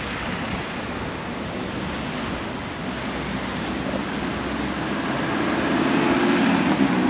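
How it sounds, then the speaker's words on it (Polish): Wind gusts along the coast at Cape Town near Lion's Head, a loud, continuous broadband rush that buffets the microphone and builds slightly toward the end, with no voices. "To chyba zawsze wieje."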